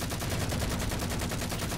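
Rifle and pistol gunfire in the video game Halo 4 rattles in a dense, rapid burst, loud and continuous over the short stretch without any talk.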